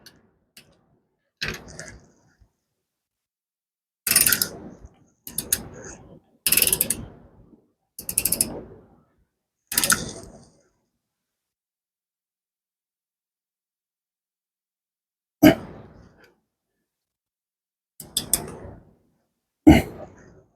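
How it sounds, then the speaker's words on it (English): Ratcheting clicks from a torque wrench tightening bolts on a Ford 5.0 engine, heard as short bursts of clicking separated by pauses, close and fairly clear. "Torque wrench, 40 pounds."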